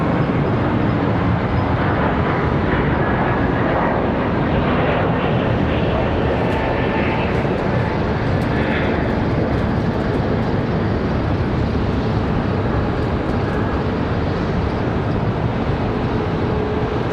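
An Airbus A321 jet departs Charlotte Douglas airport in the evening, giving a steady, broad engine roar that stays loud and even for the whole stretch, with no speech over it.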